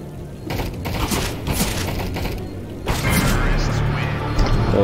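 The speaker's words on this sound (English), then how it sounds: "Deploying flashbang." Gunfire and a flashbang blast in the PUBG Mobile shooter game: a dense run of rapid shots and booming impacts that swell louder partway through, with a voice talking over the action.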